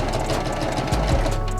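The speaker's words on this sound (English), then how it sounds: "going to sew it all the way around with one straight stitch" Sewing machine running a continuous straight stitch around the edge of a cosplay costume piece in heavy, strong thread, a steady close mechanical whir with a brief low thump partway through.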